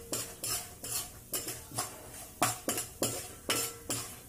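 Tempering spices stirred in a pan over a low flame for poha pulihora, heard as about a dozen rhythmic scraping strokes of a spoon against the pan, each a short bright swish, with a faint sizzle underneath.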